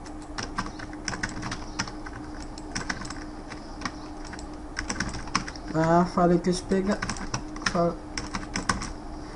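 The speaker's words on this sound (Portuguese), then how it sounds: "Vai acabar com o teclado dele." A computer keyboard hammered hard during gaming, rapid irregular clacks of keys close to the mic, with someone speaking Portuguese in bursts partway through over the typing.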